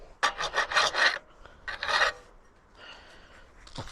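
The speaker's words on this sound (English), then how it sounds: "just got to file this down now because I can feel the burrs under there" A hand file rasps over metal burrs on a carp fishing barrow in short, close scraping strokes: a cluster of quick passes, a pause, then a couple more strokes, with no talk.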